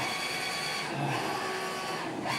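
A printer runs steadily at close range, giving a continuous mechanical whir with a faint tonal hum and brief shifts in pitch as it works.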